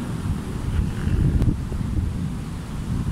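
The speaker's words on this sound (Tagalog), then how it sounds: "Lakas ng hangin ngayon." Strong wind buffets the microphone with a continuous low rumbling roar, gusting slightly throughout with no voices.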